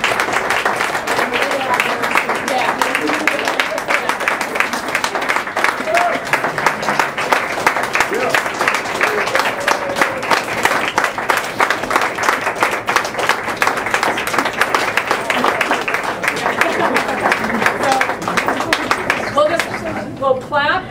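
Sustained applause from an audience at a 2014 graduate awards ceremony, steady dense clapping running throughout with voices mixed in, ending abruptly.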